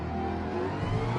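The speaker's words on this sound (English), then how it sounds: "listen to this Mustang engine" A Ford Mustang rally car in the Gran Turismo racing game, its engine droning loudly and steadily with a low, rising rev.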